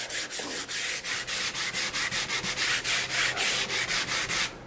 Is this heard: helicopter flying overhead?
no